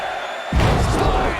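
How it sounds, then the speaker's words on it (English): After a low steady hum, a large wrestling crowd abruptly erupts into a loud sustained roar that stays up to the end. "Listen to this crowd count the next one in."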